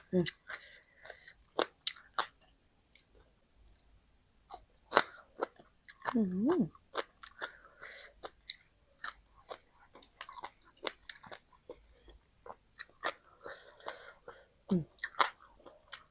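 Crunchy bites and chewing of a spicy Thai pounded sea lotus salad, heard as sharp, close crunches in an irregular rhythm over about sixteen seconds, with short pauses between mouthfuls.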